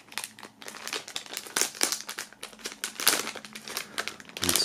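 Plastic foil packaging holding collector's edition patches crinkles and rustles continuously as it is handled, busy irregular crackling close to the microphone with no talking.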